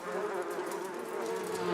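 Bees buzz in a loud, close, continuous drone that holds evenly through the short stretch.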